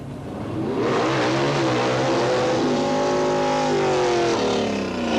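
A drag race car at Boundary Bay Raceway revs hard to clear out its engine, a loud, sustained roar with rising pitch held close for several seconds.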